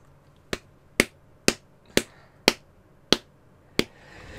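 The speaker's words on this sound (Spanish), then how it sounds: "Estaba aplaudiendo sarcásticamente." Sarcastic clapping in the Dead by Daylight video game, seven sharp, separate claps spaced about half a second apart, close and clean against a quiet background.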